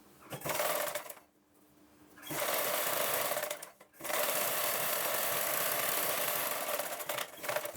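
A sewing machine stitches a blouse in steady, loud bursts of rapid whirring, pausing briefly twice between runs, with no talking.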